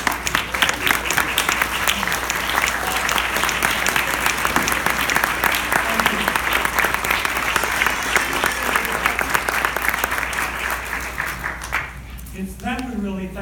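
An audience applauds loudly and continuously at an award event, with dense clapping and a hum of crowd noise throughout; near the end the applause thins and a voice begins to speak.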